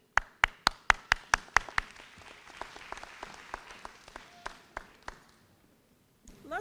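Audience applause at a pre-kindergarten graduation ceremony: a run of sharp, separate claps at first, then a looser spattering of claps that fades out before a brief murmur at the end.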